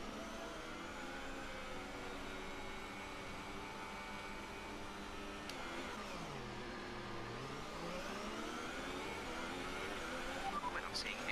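A race car engine revs during a practice start at a Singapore round: a faint, steady engine drone whose pitch sinks low and then climbs again, heard from a distance.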